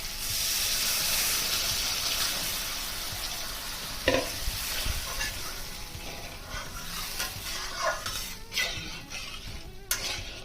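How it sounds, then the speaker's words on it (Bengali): Water poured into a pan of fried spices and red chilli powder for a Bengali pomfret curry, giving a loud steady sizzle and stir that settles into crackling with a few sharp clinks. "এবারে জল দিয়ে দিচ্ছি।"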